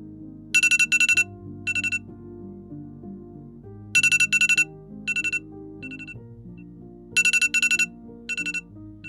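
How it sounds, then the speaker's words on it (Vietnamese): An alarm clock rings loudly in repeated bursts of shrill electronic beeps, each burst a quick run of four pulses, cycling over a steady background melody. "Chuông báo thức kêu lên inh ỏi, kéo Du ra khỏi giấc mơ ngọt ngào hơn 10 năm"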